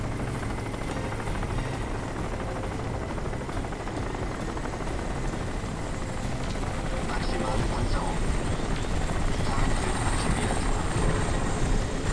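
Helicopter in the game Crysis, a steady rotor-and-engine drone that grows slightly louder toward the end, continuous and fairly near.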